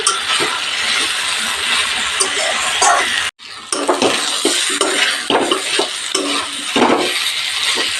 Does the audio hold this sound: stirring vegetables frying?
yes